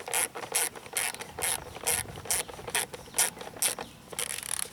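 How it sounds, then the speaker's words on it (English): Socket wrench ratcheting on the air filter housing screw of a 1990-1993 Honda Accord 2.2L, a quick series of close, crisp clicking bursts in an even rhythm. "when you tighten it, you can use either an 8mm socket or a Phillips head screwdriver to tighten it"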